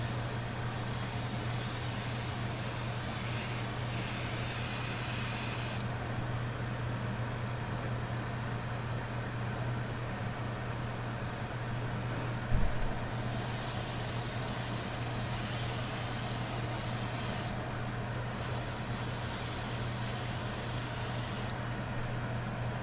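An airbrush sprays paint onto a jerkbait lure in a Clown pattern, giving a steady continuous hiss for most of the stretch, with brief pauses and one small click, close and loud with no talk.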